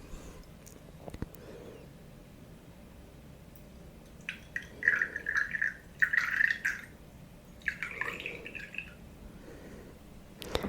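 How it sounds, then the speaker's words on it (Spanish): A little water poured into a glass in a quiet ASMR setting, heard as a few close, soft bursts of trickling and dripping in the middle of the stretch, with faint background hiss around them. "voy a ponerle un poquito de agua"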